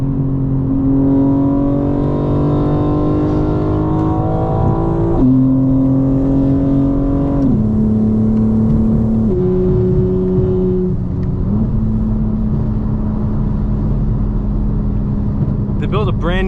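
A modified 2025 BMW M4 Competition xDrive engine drones loud and close at high revs, its pitch stepping between several steady levels across the clip.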